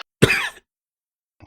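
One short, harsh cough or throat clear from a storyteller, set in a story scene, alone in silence, followed by a faint second rasp a second later.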